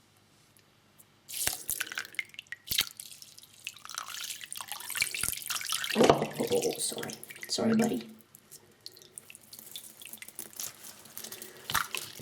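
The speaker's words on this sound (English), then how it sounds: "I'm gonna put his head like this and just pour the water all over him." Water poured over a hedgehog during a bath, splashing and dripping close by in a sink, with a louder pouring stretch in the middle and a voice speaking briefly.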